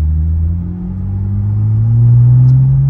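A car on a road test accelerates, its engine a loud, steady low drone that climbs gradually in pitch over a constant road rumble, with no voices.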